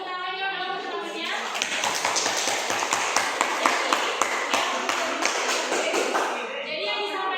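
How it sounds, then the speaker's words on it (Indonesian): Students clap together in a classroom after a math lesson answer, a dense burst of applause lasting several seconds with a voice faintly audible. "kasih tepuk tangan ya teman-temannya"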